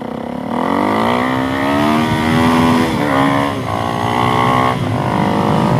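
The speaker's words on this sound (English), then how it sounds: "I kind of had to ask it a little bit at first, but sorry about hitting your limiter, Derek." A Suzuki DRZ400SM motorcycle engine revs loud and close, climbing to high revs and holding near the limiter with brief dips while riding on concrete.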